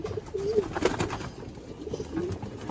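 Pet pigeons cooing in a loft, soft low throaty coos recurring every second or so, close by over a faint background hum.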